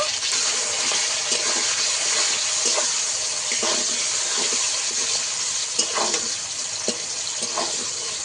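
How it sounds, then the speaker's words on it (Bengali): Vegetables frying in hot oil in a pan for hilsa fish fried rice, a steady broadband sizzle throughout with occasional soft clicks of stirring, close and even, no voices. "এবার সবজিগুলো ভেজে নেব।"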